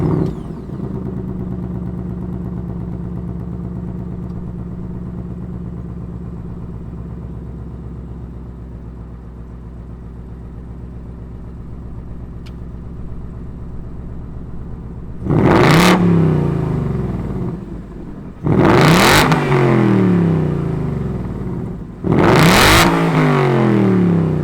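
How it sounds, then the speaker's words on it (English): A 2021 Ford Mustang Mach 1 V8 idles steadily with a low rumble, then revs loudly three times in quick, evenly spaced surges that drop back to idle between them. "Let's fire it up and hear what this Mach 1 sounds like."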